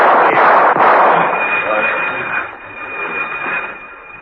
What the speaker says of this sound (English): Rostov, at the end of the passageway, whipped up a few warning shots and raced to the next corridor.